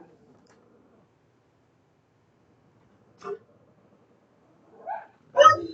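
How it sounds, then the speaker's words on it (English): A big dog barks outdoors a few times, the short separate woofs spaced over several seconds and sounding somewhat distant against an otherwise quiet background. "There's a big dog outside."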